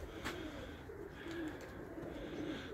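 Pigeons coo softly at a loft while being fed, with low murmuring calls and faint wing sounds over a steady outdoor background.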